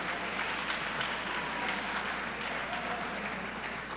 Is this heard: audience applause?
yes